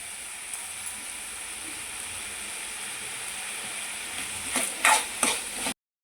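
Onions and tomatoes sautéing in a pan with salt for kadai paneer, a steady close sizzle with stirring scrapes and a few louder clanks near the end.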